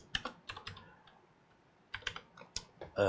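Bursts of computer keyboard typing while setting up a ZikeDrive USB4 NVMe enclosure, several quick clusters of key clicks separated by short pauses, close and clear with no talking.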